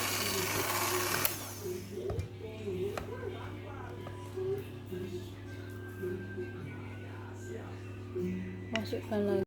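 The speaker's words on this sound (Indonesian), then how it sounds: "Di mixer kembali menggunakan kecepatan speed nomor 2 atau kecepatan rendah." An electric hand mixer runs steadily at low speed, speed setting 2, through batter for a baked tape sponge cake with six eggs, giving a continuous close motor hum with someone talking over it throughout.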